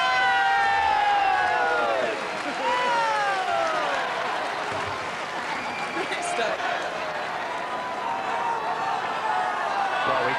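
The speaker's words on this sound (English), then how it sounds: "so give him a big cheer" Tennis fans on Henman Hill outside Wimbledon cheering and applauding for Tim Henman's match against Philippoussis, a loud, sustained crowd roar with whistles and shouts that rises and falls over several seconds.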